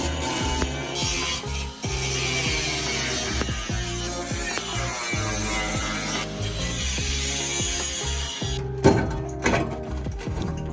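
Metal is ground and cut near a Silverado pickup's fuel tank, with a continuous rasping, scraping tool noise broken by short repeated strokes and brief pauses, loud and close.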